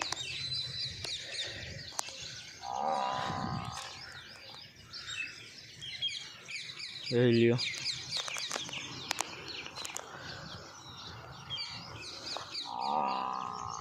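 Sparrows chirp in a morning countryside by a farm and river, bright twittering calls scattered across the whole stretch amid other birds, with a brief spoken remark and a short low lowing-like call partway through.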